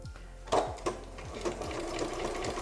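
A Janome Memory Craft 6600 sewing machine fitted with a walking foot stitches through quilt layers in steady, rapid mechanical pulses, close and moderately quiet, with a few sharper knocks near the start.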